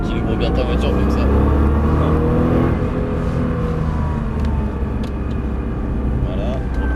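A car's engine pulls hard with the throttle opened progressively on a race circuit, a loud steady drone rising in pitch from the cabin as an instructor talks over it.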